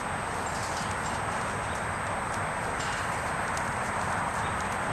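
Hoofbeats of a horse being ridden, a dense steady clip-clop at a working gait, somewhat distant and muffled under a constant wash of wind or ambient noise, with no talking.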